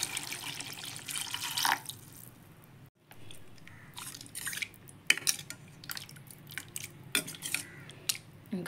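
Water poured from a glass into simmering fish curry gravy gives a wet splashing burst early on, then quieter bubbling with small irregular drips and clicks, close by with no talking.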